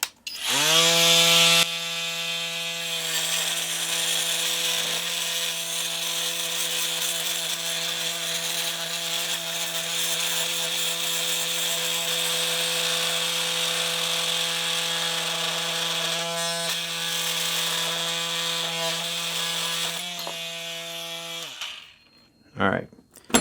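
A Flex 24V oscillating multi tool on speed 1 cuts a tapered wood shim with a steady, loud, buzzing drone. The buzz runs unbroken for about twenty seconds before the tool stops abruptly.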